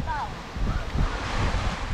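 Sea waves washing onto a beach during a seaside picnic, a continuous rushing surf mixed with wind buffeting the microphone, fairly soft and close.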